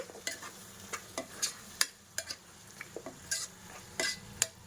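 Mutton curry stirred in a pot, a series of sharp spoon scrapes and clinks against the metal at an uneven rhythm over a faint simmer, close but fairly quiet.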